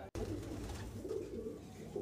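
Madrasi pigeons in a loft make a low, continuous cooing murmur, close and steady, after a brief cut at the start.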